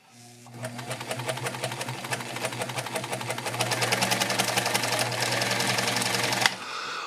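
A Singer 319K sewing machine runs at a steady pace, its rapid needle clatter and motor hum filling the space nearby, speeding up slightly partway through before stopping abruptly, with no talking.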